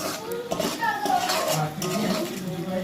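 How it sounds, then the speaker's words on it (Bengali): Spice masala for egg biryani being stir-fried in a pot, with steady scraping and clinking of a spoon against metal and a continuous sizzle; voices sound faintly in the background. "মশলাটা ভালোভাবে করে কষে নিতে হবে।"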